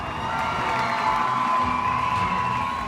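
A packed crowd at Redcliffe Stadium roars during an NRLW rugby league grand final, a broad, sustained cheer with whoops and shouts rising over a steady stadium din.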